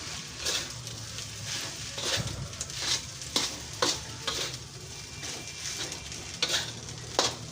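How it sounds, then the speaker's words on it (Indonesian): Fried rice with oyster sauce is stirred in a hot pan, a spatula scraping and tossing in repeated strokes over a continuous close sizzle, with no voices. "harus diaduk terus biar nggak nempel"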